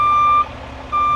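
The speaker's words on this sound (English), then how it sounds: "So she's going to back up using a spotter." A truck backs up beneath a salt spreader, its reversing alarm giving two loud steady electronic beeps separated by a short pause over a low engine idle.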